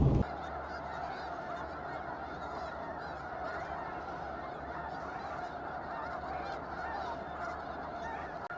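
A flock of geese honking continuously at a steady, moderate distance during an outdoor wildlife outing, with dense overlapping calls throughout and no speech.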